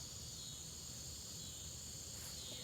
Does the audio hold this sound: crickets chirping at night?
yes